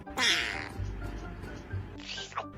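A cat meows twice, a drawn-out cry followed by a shorter one, fairly quiet with low rumbling in the background.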